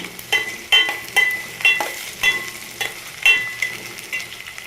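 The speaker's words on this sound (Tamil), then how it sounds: "சரி வெங்காயத்தை நல்லா வதக்கிக்கலாம் வெங்காயம் நல்லா பொன்னிறமாக வதங்கிருச்சு" Onions frying for a Chettinad egg curry, sizzling steadily in a pan while a spoon stirs them in a repeated rhythm of scraping strokes, loud and close with no talk.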